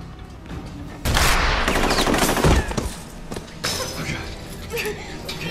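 Gunfire bursts out in a tense film scene, a rapid loud volley of shots with sharp cracks and a heavy blast, then scattered further shots and clatter as the noise trails off.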